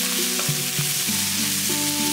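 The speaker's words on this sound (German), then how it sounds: "Zur Risotto gehört das zu, dass man die ganzen Zutaten wirklich anschwitzt und den Geschmack rausholt." Vegetables and other ingredients sautéing in a pan as the base for a vegetable risotto in a Sri Lankan kitchen, with a constant loud sizzle and a few soft stirring knocks.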